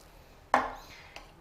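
A knife cuts a cross into a tray of baked kebbe, one firm thud followed by a quieter second tap a moment later.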